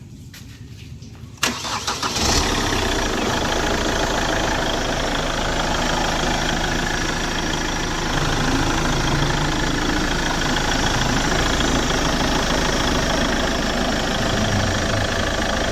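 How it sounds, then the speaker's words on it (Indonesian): Chevrolet Captiva diesel engine cranking briefly and then catching, settling into a steady, loud, rough diesel idle that runs continuously up close with no talk over it. "coba starter, Sun."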